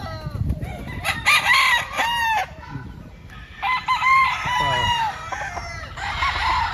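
Several White Kelso gamefowl roosters on a farm in Lipa, Batangas crow loudly and close by, their calls overlapping one after another, with some clucking between the crows.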